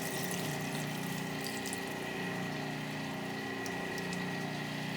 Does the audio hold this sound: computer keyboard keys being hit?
no